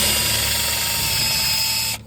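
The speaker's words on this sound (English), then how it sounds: "1/4 inch we're drilling here." A power drill whines steadily as it bores a quarter-inch hole into metal on a Ford V6 engine, a continuous high grinding tone that cuts off abruptly near the end.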